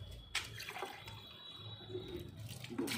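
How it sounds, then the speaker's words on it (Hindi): Water poured by the glassful into a mustard cake (sarson khali) fertilizer mix, a steady close splashing and trickling with brief louder pours, no talking. "10 गिलास पानी इसमें मिलाना है।"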